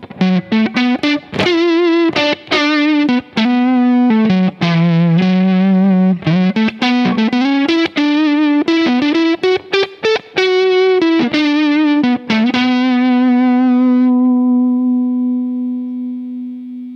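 Heavily distorted electric guitar through a Cornerstone Gladio Double overdrive preamp at maximum gain, playing a fast run of single notes, loud, saturated and dark, ending on a long sustained note that slowly fades.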